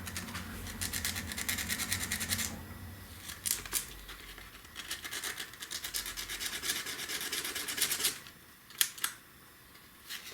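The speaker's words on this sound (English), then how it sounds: "I went to grab some actual sandpaper because this one's pretty bad" Sandpaper rubbed by hand during an arcade monitor repair makes raspy scratching strokes in quick back-and-forth bursts, with short pauses between spells, close and moderately loud.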